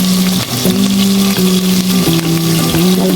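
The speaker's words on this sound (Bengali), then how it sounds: "ভালো করে মশলাটা কষিয়ে নেব।" Ginger paste with turmeric and chili powder frying in a pan for a khichdi bharta, a loud, steady sizzle with bubbling and stirring, heard alone without voices.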